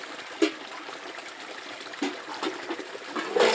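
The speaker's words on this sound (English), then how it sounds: "Look at that, hot water on demand at the frickin' semi-permanent winter camp." Hot water runs from a tap at a semi-permanent winter camp, a thin trickle broken by a few brief splashes and gushes, quiet and close with no talking.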